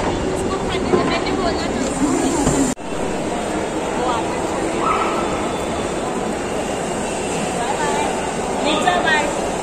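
At Andheri railway station, a train rumbles with steady, loud mechanical noise and clatter throughout, punctuated by a sharp knock midway; a voice talks faintly in the busy background.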